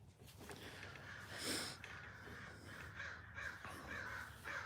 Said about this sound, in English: Crows are great.